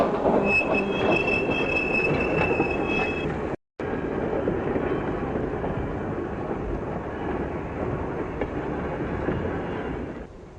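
Freight rail cars rolling steadily along the tracks in a rail hump yard, a continuous rumbling roar with a high wheel squeal at the start, briefly cut off before resuming.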